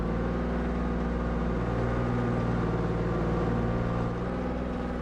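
Armored vehicle engine in Arma 3 starting to drive, a loud, continuous low droning rumble that holds steady and close throughout.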